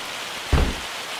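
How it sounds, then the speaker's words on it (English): Steady hail or heavy rain beats down as a dense, even hiss in the Farming Simulator 25 video game, and a brief low rumbling thump rises midway through. "I don't like to be out when it's hailing like this."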